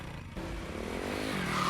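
A motorcycle approaches in a Hindi-dubbed South Indian action film scene. Its engine hums briefly and rises steadily in loudness over a short moment, with no voices.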